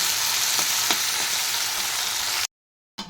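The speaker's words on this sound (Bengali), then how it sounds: "এইভাবেই খালি খালি একটু তেলে ভেজে নেব" Steady, loud sizzling of food frying in a little hot oil in a kadai, continuous for a couple of seconds, then a sudden silence before the sizzle briefly returns.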